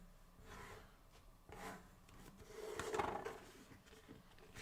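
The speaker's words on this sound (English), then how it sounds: "So we're just folding and burnishing on all of these." Paper for a Christmas treat box is folded and burnished, giving soft, faint rubbing and scraping strokes that repeat close up in a quiet room.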